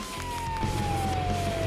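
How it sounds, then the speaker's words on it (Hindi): Ambulance siren arriving in a children's DIY doll play scene, a steady wailing tone that slowly falls in pitch over a low rumbling background, fairly loud and close with no talking. "एम्बुलेंस हाजिर है।"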